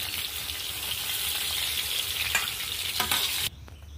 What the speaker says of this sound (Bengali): বন্ধুরা, আমার বেগুনগুলো আমার ভাজা হয়ে গেছে, বেগুনগুলো আমি এবার তুলে নেব।